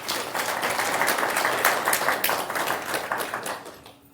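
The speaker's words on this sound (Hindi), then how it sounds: "ताली बजाओ थोड़ा सा अच्छी तरह।" Audience applause at a spiritual talk in Mahagama, Jharkhand: a dense, steady burst of many hands clapping for about four seconds, moderately loud, tapering off at the end.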